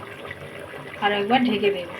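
Remaining water poured into a pan of chicken curry with red hill potatoes, a soft splashing pour heard under a person speaking.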